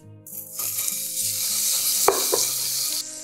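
Butter melting over medium heat in a pan as the base for a cheese sauce, giving a steady close sizzle with a few sharp clicks and clatters partway through.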